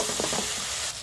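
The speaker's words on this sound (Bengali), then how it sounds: "ভালো করে আমি কষে নেব।" Spice masala stir-fried for egg kofta curry, a brief, dense, close sizzle with a couple of soft stirring strokes, steady in loudness with no talking.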